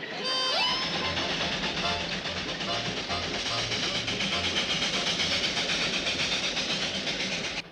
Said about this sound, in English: That beautiful little train.